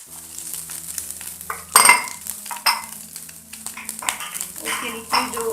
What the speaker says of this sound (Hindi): ये मैं इसमें बंद गोभी ऐड कर दूँगी और साथ ही मैं इसमें शिमला मिर्च ऐड कर दूँगी